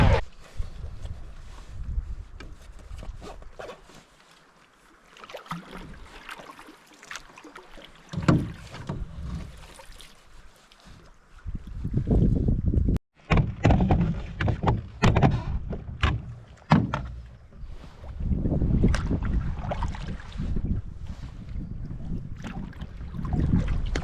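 A solo canoe is paddled with a double-blade paddle on a breezy day, with water swishing and splashing in uneven strokes and gusts of wind buffeting the microphone; it is quieter early on and louder, denser paddling later.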